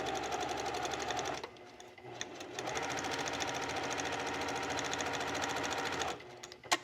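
Sewing machine stitching a bias seam on a little black dress, a fast close whirring run with a brief pause and restart, then stopping near the end.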